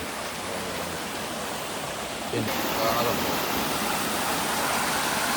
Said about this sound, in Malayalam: അത് നേരെ താഴത്തുള്ള അരുവിയിലാണ്